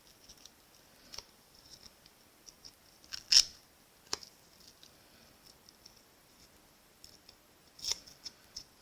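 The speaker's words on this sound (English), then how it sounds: "And then just cut some off the bottom." Scissors snip through ribbon while making a paper card, giving faint, sparse clicks and a few sharper cuts spread across a quiet background.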